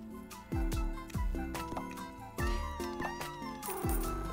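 Cartoonish cats meow repeatedly in a cute video game, a series of bright, bouncy mews over a plucky musical backdrop, each call clear and close.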